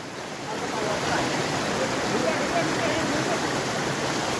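Water pours through a small earth-and-tarp dam built across a river, a steady, close rushing flow without pauses.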